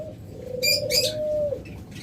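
A low, steady coo from a pair of caged doves hums beneath a few brief chirps, with soft room noise and no talking.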